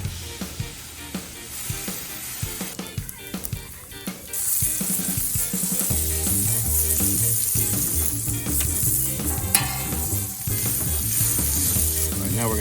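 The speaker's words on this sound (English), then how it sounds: "Oh yeah, listen to that sizzle." A Juicy Lucy hamburger sizzles and fries steadily on a Camp Chef griddle, loud and close, with scraping and clinking of a spatula throughout and no talking.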